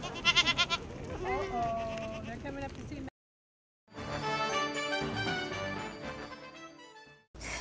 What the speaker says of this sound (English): There's a lot of goats, so sort of overwhelming.